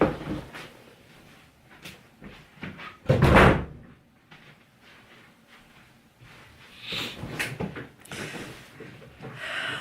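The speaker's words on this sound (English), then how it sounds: "I'm just going to close my door." A room door is shut with a loud wooden thump a few seconds in, preceded and followed by softer rubbing, handling and movement noises close by, with no talk.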